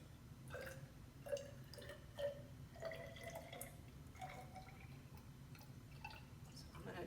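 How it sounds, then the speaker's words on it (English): Water being carefully poured into a graduated cylinder in a chemistry lab, with soft trickling and gurgling pulses rising in pitch as the cylinder fills, faint and close. "I'm going to carefully pour it."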